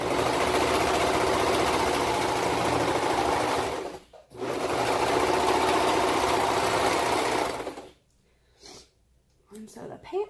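Sewing machine runs steadily stitching a curved seam on toddler bell-bottom pants, a close buzzing whir for about four seconds, a brief pause, then another long run before stopping, with a few light handling sounds after.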